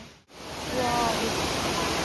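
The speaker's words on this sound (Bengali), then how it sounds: "আর ঝর্ণার আওয়াজ পাচ্ছি আমি" Elephant Falls waterfall in Meghalaya, a dense continuous rush of falling water heard nearby, briefly dipping at the start before settling into a loud, even roar.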